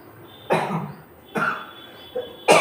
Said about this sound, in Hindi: कभी कभी खांसी भी आ जाता है